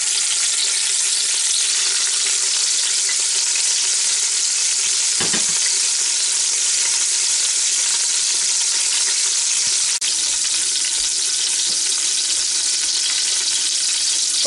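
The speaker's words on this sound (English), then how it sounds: "now these have been sizzling like this for about 4 minutes" Filet mignon steaks sizzle and fry in an Instant Pot stainless steel pot, a loud, continuous crackling hiss with a couple of faint clinks, no talking.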